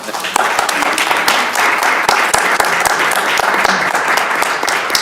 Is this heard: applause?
yes